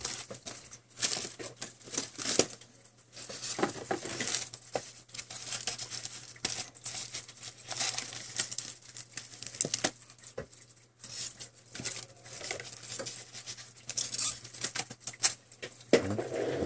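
Crinkling and tearing of packaging as a new replacement glass panel for a Samsung Galaxy S3 is unwrapped, with busy patter and rustles throughout and a steady low hum underneath, no talking.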